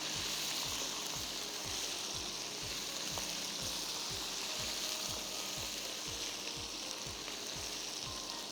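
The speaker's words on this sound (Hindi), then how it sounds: "थोड़ा सा हम चिकन को फ्राई करेंगे ताकि अरोमा अच्छा आ जाए इसके साथ।" Chicken pieces fry in hot oil in a pan, giving a steady, loud sizzle with a faint rhythmic stirring or scraping pulse beneath it throughout, and no talking.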